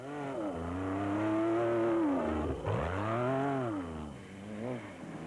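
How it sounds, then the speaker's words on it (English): Rally special vehicle with a 440 horsepower V8 engine, a deep engine note swelling and falling through two strong revving surges, loud and close with no talk. "mega horsepower V8 engines, and the unit fitted to the Aceco develops 440 horsepower"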